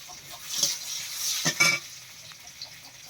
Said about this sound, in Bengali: কড়াই দিয়ে দিচ্ছি পেঁয়াজ